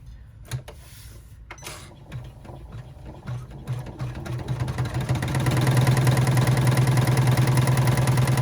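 A sewing machine runs a top stitch on a small rucksack, starting with a few irregular clicks and short bursts, then building into a steady, loud mechanical whir for the last few seconds.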